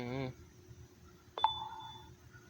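A short electronic ding from a security camera's motion notification at a side door, a single bright chime with a ringing tail, heard fairly clearly in a quiet room after a voice stops.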